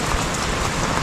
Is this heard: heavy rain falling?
yes